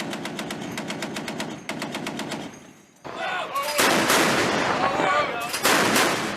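Naval guns fire at sea during live-fire crew training, loud rapid bursts of repeated shots, then a pause and heavier booming blasts with long rumbling echoes, alone without speech.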